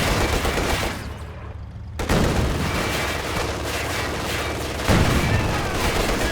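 Machine gun fire in the Company of Heroes 2 battle game, dense and sustained, with bursts and explosions layered over a continuous loud din of combat.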